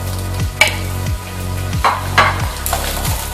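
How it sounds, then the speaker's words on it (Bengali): Potato pieces fry in hot mustard oil for a traditional Bengali dish, a continuous sizzle broken by periodic scraping stirs of the spatula against the pan, close and fairly loud. "এবার আমি প্রথমে আলুটা ফ্রাই করে নিচ্ছি।"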